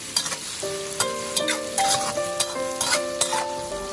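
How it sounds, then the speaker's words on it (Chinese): Minced garlic and small chili peppers sizzle loudly in a hot wok while a metal spatula scrapes and clinks in quick repeated strokes of stir-frying, close up with no talking. "把蒜末、小米辣放入锅中，再快速的翻炒，炒出它们的香味。"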